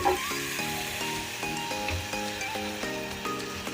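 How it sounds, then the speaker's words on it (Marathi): Chana dal sizzles and crackles in hot oil in a pan while being stirred, with steady frying hiss and repeated scraping strokes of the spoon at an even rhythm, close and fairly loud. "ती पण एकदा ढवळून घ्यायची"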